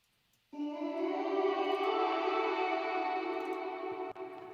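Vocals run through a lo-fi effect plugin, a sustained sung tone entering after a brief quiet start, held steadily with a hazy, filtered, slightly chorused and echoing texture.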